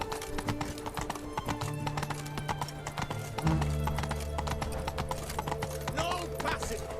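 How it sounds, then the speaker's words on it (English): Roach, a horse in The Witcher 3 video game, clip-clops along with steady hoofbeats and lets out a neigh, while a voice talks over the game sounds and ambient music. "Whoa there, Roach"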